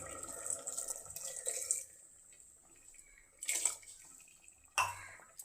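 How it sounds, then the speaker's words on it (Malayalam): Coconut milk pours into a potato curry cooking in a pressure cooker, a soft liquid splash and trickle followed by two brief, sharper splashes, fairly quiet. "ഇനി നമുക്ക് തേങ്ങാപ്പാൽ ഒഴിച്ചു കൊടുക്കാം"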